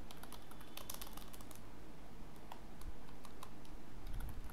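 Rapid, steady typing of Python code on a computer keyboard, its light clicks and clacks coming in clustered bursts with brief pauses against a quiet room hiss.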